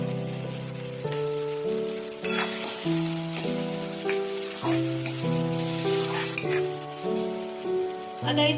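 Spicy eggplant bharit sautés in a pan, its soft steady sizzle running underneath prominent melodic background music throughout.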